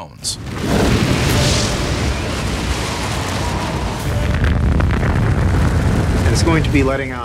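A massive nuclear explosion erupts into a long, deep roaring rumble that keeps rolling for several seconds, with crackling debris toward the end.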